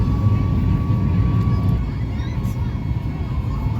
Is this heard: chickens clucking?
no